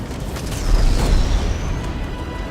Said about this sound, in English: you'll see a big explosion followed by some secondary explosions on the ship